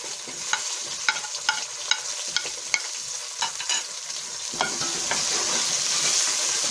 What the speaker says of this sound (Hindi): अब टमाटर को उतने तक भूनेंगे जितने तक हमारे टमाटर गल नहीं जाते।